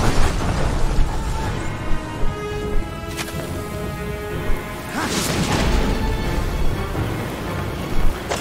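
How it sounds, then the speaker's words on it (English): Explosions as flak pillars are destroyed in the video game Legends of the Night Watch: two sharp booming bursts stand out over a constant dense rumble of battle noise, with smaller thuds between them. "One more hit should do it. One more. A flak pillar has been destroyed."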